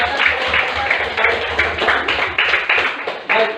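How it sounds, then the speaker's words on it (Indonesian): Students in a classroom clap for a group, a loud, slightly uneven run of hand claps lasting a few seconds, with some voices mixed in. "Kita tepuk tangan untuk kelompok 4 dulu"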